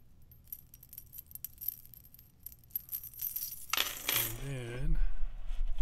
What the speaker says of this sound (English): Necklace with the coins on it.